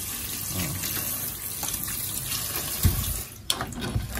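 Live, freshly caught crabs are rinsed under a running tap in a sink, a steady hiss of flowing water with a few splashes and knocks from handling near the end; no talking.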